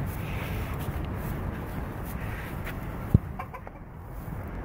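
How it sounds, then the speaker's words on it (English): Hens on a farm cluck softly and intermittently at a moderate distance over steady outdoor background noise, with one sharp knock partway through. "you've got hens."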